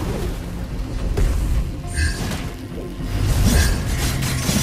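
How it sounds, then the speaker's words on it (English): A turret blowing up in a fast-paced online battle game, heard as a booming crash with shattering debris and whooshing effects layered over busy game noise. "Our turret has been destroyed."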